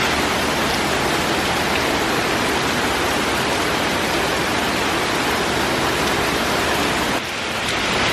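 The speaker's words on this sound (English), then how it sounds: "It's just raining, raining, and raining." Heavy rain falls outdoors as a loud, steady, broadband hiss that drops off slightly near the end. No voices are heard.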